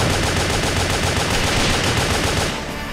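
Rapid sustained gunfire from a weapon in the action video game WET, a loud dense continuous volley of shots that fades slightly at the end, with no talk over it.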